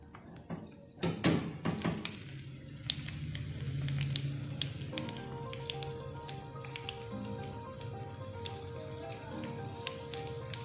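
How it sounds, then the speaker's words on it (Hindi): Battered chicken tempura frying in hot oil, a soft continuous sizzle with scattered crackles and a few sharp utensil clinks near the start, fairly faint under a background hum. "इसमें बैटर लगा के अच्छी तरह से इसको फ्राई कर लेंगे हम।"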